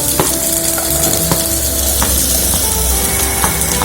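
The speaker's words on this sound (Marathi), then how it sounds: "सगळ्यात आधी थोडंसं तेल टाकायचं कढईत आणि हे जे कॉर्न आहे ते आपल्याला फ्राय करून घ्यायचे" Baby corn frying in oil in a kadhai, a loud steady sizzle close by with periodic scraping taps of a spatula stirring the pieces, no talking.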